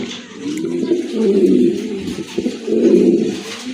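Pigeons in a loft of pigeons for sale, including a large Beauty Homer male, coo in low, close, rolling phrases, two swelling bouts with a short pause between.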